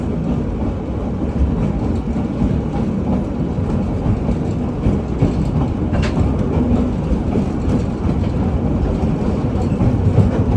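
A Hawaiian Railway Society train rolls along with a steady low rumble and faint rhythmic wheel clatter, heard from on board, continuous and fairly loud, with no talking.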